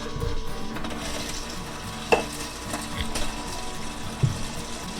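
A popcorn machine motor turns over, stirring kernels in popping oil with a steady whirring churn and low hum, plus an occasional light clink, close and continuous.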